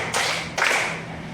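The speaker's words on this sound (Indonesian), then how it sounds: "Tepuk 5 kali." Two sharp hand claps about half a second apart, close and fairly loud, from a classroom counting-and-clapping game, with a faint hum underneath.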